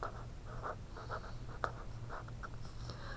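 A marker or pen writes zeros by hand on paper or a board during a math lesson, with soft scratchy strokes repeating in short bursts, close and fairly quiet.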